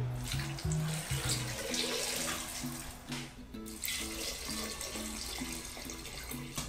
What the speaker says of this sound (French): on va alors mettre de l'eau